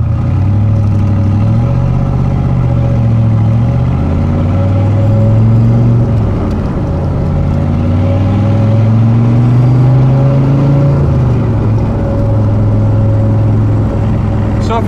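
A 1971 Chevy Corvette with a manual transmission driving, its engine droning loudly as revs climb and drop through several gear shifts, heard from inside the car.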